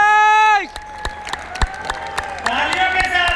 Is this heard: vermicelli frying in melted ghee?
no